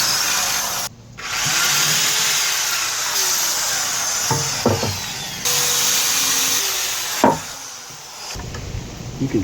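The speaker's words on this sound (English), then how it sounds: "You can drill through block okay without the hammer" Power drill boring through concrete block without hammer mode, a steady whining buzz in several bursts with brief pauses and sharp bumps between them, close and loud, no talking.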